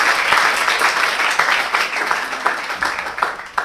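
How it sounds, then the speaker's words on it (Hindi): Crowd at a kavi sammelan poetry gathering in Shekhawati, Sikar, claps loudly and continuously for a few seconds, a dense steady roar of hands close by with scattered sharper claps. "अपने शेखावाटी के लिए एक बार जोरदार तालियां बजा दें"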